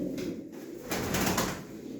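Pigeons coo close by during a live pigeon auction, soft throaty calls repeating over a murmuring background.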